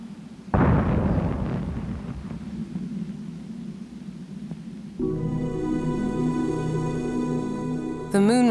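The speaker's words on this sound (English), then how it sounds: "The fourth rocket also blew up." A Soviet rocket explodes during a test launch with one sudden loud blast followed by a long rolling rumble; later a steady droning tone rises over the fading roar.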